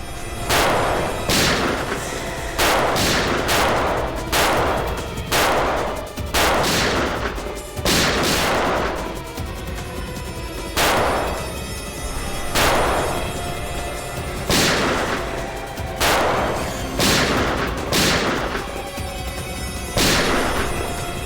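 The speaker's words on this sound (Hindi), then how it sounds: "गोली चला।" Gunfire in a raid on a village field where cannabis was being grown: repeated loud, sharp shots in irregular bursts and single cracks across the whole stretch, close and dominant with no talk.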